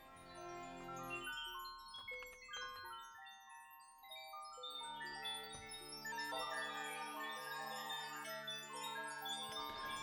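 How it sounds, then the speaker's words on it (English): A synthesized wind-chime-like texture made in Ableton Live 11 for retro ambient music: bright, ringing tonal notes layered and sustained, steady and fairly loud throughout with no voices. "Just sounds like a wind chime now."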